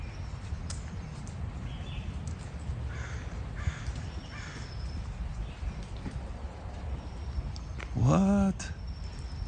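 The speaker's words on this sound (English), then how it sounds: "this is almost like a Hitchcock movie with all those crows" Crows cawing in a fire-damaged neighborhood, a loud harsh series of calls near the end standing out over steady outdoor background noise and faint distant sounds.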